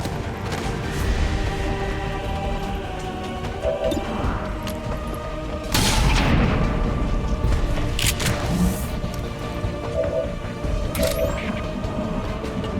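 Shotgun and rifle fire in the XCOM 2 video game, several sharp separate blasts and cracks spaced over a busy backdrop of game music and effects.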